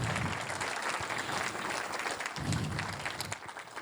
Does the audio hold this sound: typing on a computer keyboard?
no